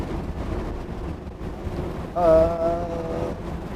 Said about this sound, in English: Welcome to our rain.